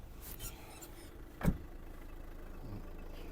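A 2010 Renault Grand Scenic III with a 1.9 dCi diesel engine idles with the hood open. It gives a faint, steady low rumble with a single soft clunk partway through.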